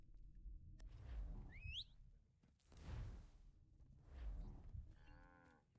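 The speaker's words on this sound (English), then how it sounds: "let me call a horse" A horse called in Assassin's Creed III gives a long, low, lowing snort-whinny in three swelling bursts, loud and close, with a brief whistle-like tone and a short tonal flourish near the end.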